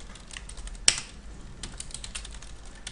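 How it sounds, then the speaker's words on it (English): A computer keyboard is typed on in light, irregular keystrokes, with one sharp louder click near the start, fairly quiet and close with no talking. "just type whatever I'm typing"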